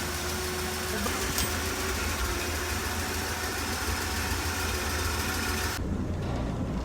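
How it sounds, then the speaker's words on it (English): The engine of a 1965 Chevy Sportvan idles steadily with a smooth, even rumble close by, and its tone shifts and quiets toward the end. "That motor sounds like new."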